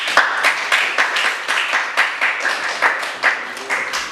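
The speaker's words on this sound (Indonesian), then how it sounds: "Tepuk tangan untuk kelompok 2." A small group of students claps for a classmates' group after a school presentation, a loud, close, rhythmic clapping with regular beats throughout.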